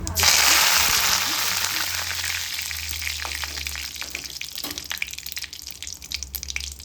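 Hand-crushed curry leaves dropped into hot tempering oil with popped mustard seeds, a loud burst of sizzling and crackling at first that settles into a steady, softer frying hiss with scattered pops.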